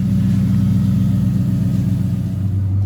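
A loud Dodge Charger engine runs with a deep, steady rumble and a strong low drone throughout, heavy and close with no break and no voices.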